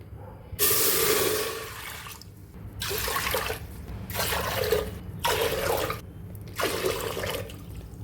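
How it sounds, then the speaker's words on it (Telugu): Water is poured cup by cup into a thick-walled pressure cooker pot on a stove, in four separate splashing bursts with short quiet gaps between them. "ఇప్పుడు ఇందులోకి 5 కప్స్ వాటర్ తీసుకోవాలి"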